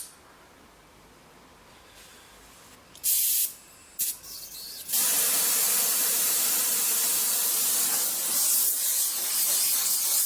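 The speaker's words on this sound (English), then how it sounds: "Do some more awkward welding." A gas welding torch hisses while welding motorcycle exhaust pipes for a Vincent engine fitted into a Manx frame: a few short bursts first, then a loud, steady, close hiss that carries on to the end.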